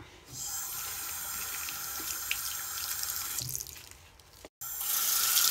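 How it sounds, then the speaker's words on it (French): Running tap water splashes steadily into a sink while a makeup brush is rinsed, a continuous close hiss that briefly cuts off and then resumes stronger. "Là, je vais rincer mon pinceau."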